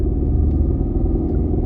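A car engine with 400,000 km on it is revved, producing a loud, close, deep rumble that holds steady with a pulsing low throb and no voices over it.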